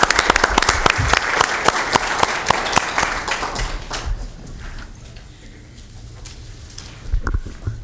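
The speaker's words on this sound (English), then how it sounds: "thank you to our audience for your applause as well and recognition" An audience at a Sacramento County Board of Supervisors meeting applauds, brisk clapping that is loud at first, thins out after about four seconds and trails off into scattered claps.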